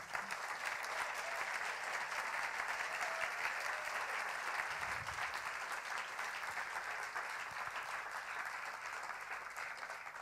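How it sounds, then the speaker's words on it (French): A seated audience claps steadily for contestants and jury at a science-communication thesis competition, dense sustained applause heard from within the room without pause, a few voices faintly underneath. "Applaudissements qu'on va dédier aussi directement au jury"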